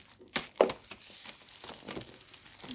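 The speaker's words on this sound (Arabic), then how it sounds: "بتشيل الورق السلوفان أهو عادي، مفيش أي مشكلة" Cellophane wrapping crinkles as it is peeled off a boxed Bluetooth headphone set, with a few sharp close crackles early on and then softer, scattered rustling at low volume.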